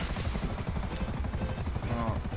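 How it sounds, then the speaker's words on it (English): A slow helicopter in the Grand Theft Auto V online game thrums steadily with a loud, continuous rotor chop and engine roar throughout, with no speech over it. "This is a slow helicopter."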